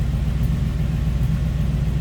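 A 1949 GMC 150 five-window pickup with a Crate 350 V8 and mild exhaust idles close by, a steady, even low rumble with a regular throb and no voices over it.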